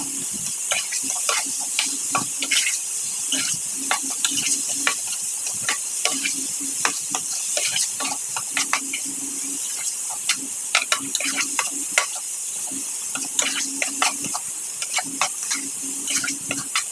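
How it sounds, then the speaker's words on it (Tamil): Vegetables with added tomato are sautéed in a hot pan, giving a steady sizzle with frequent scraping and stirring clicks from a spoon across about seventeen seconds, close and fairly loud, with no talk. "இப்போ இதையும் வந்து நல்லா வதக்கிக்கலாம்."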